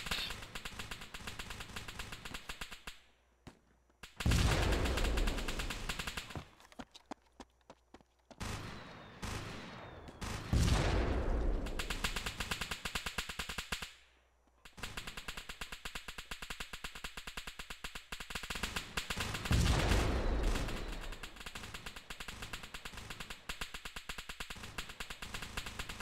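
Gunfire in the game Wasteland: rapid, dense bursts of shooting that come in waves, broken by short silent gaps, with sharper, louder volleys standing out between them and no talk over the shots.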